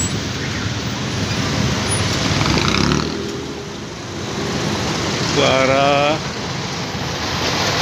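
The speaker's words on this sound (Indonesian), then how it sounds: "Nampak terjadi kemacetan di jalur ini" Steady roar of heavy traffic jammed on the non-toll road near the Cileunyi toll interchange, a broad continuous rumble with engines idling and creeping close by, and a passing vehicle's tonal whine near the end.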